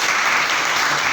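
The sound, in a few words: applause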